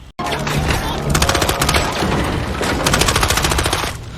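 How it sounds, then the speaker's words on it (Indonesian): Rapid bursts of gunfire from a film action scene, with police weapons fired into the air, sound as loud, dense crackling volleys and overlapping shots that continue almost without pause. "merebut senjata polisi dan menembakkannya ke atas sebagai peringatan"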